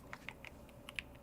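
A handful of crisp, close keystrokes on a Bubble 75 computer keyboard, about six quick clicks in an uneven rhythm over low background hum.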